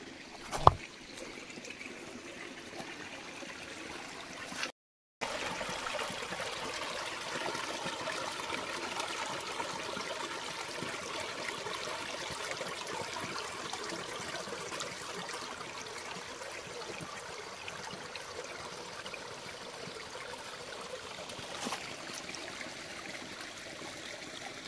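A mountain stream flows through a Himalayan forest in Uttarakhand, a steady, moderately loud rush of water, with a couple of sharp knocks near the start and a brief dropout around five seconds.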